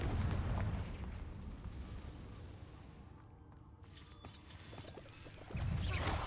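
A Confringo spell goes off in a Harry Potter video game with a loud booming blast that fades into a rumbling tail, then a second heavy explosion hits near the end.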